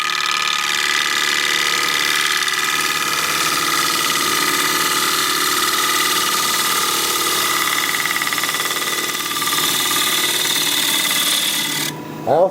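Wood lathe turning a 7-inch live-edge alder bowl with a gouge, the bevel riding the wood; a steady, loud whirring hum with a constant high whine runs throughout, ending in a brief scrape.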